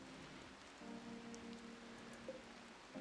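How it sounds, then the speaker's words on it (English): Faint, even rain patters steadily on a surface, a soft continuous hiss with a low hum running underneath. "It's still raining."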